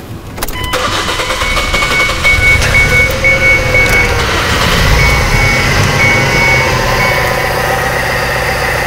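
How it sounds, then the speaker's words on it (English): A 2006 Ford Escape with a misfire cranks and starts up close, then settles into a loud, steady idle with a slightly uneven, pulsing roughness. No one speaks over it. "let me go ahead and start the car so we can try to figure out what's wrong with this vehicle"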